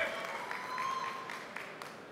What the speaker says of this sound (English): Can we have a round of applause for the previous speaker as well?